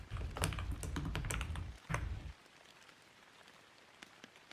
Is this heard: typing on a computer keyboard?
yes